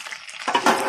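Chicken stick kebabs frying over medium heat, a close, brief burst of sizzling hiss that swells louder partway through.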